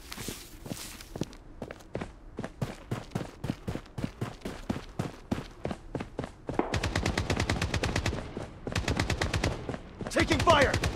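Rapid bursts of gunfire in the first-person shooter Blood Strike, starting as spaced single shots and building into dense automatic volleys, loud and close throughout.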